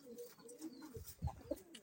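Silver Bezi pigeons cooing softly nearby, a few low rolling coos with brief chirpy notes and a small flutter, quiet and with no one talking.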